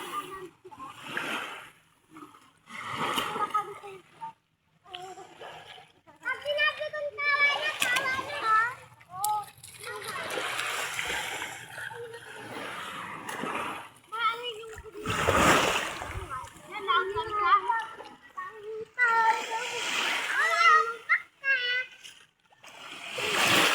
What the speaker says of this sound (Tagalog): Yan po at ang dami pong naliligo.